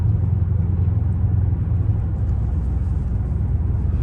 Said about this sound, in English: The car just sound louder in drive